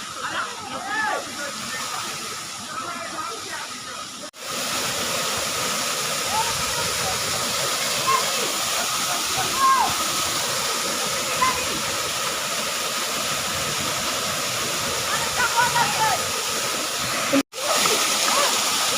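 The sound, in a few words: Dholai waterfall near Silchar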